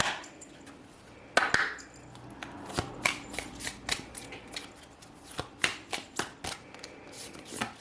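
Tarot cards are drawn and handled from a deck, making a series of crisp, close snaps and flicks that grow more frequent and rhythmic toward the end, over a quiet background.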